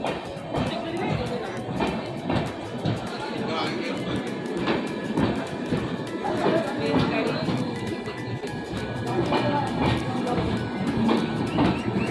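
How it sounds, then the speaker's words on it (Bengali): A train rolls past with rhythmic clattering wheels and rumble, mixed with crowd noise and voices nearby on a platform. "এই একটা ট্রেন চলে আসলো"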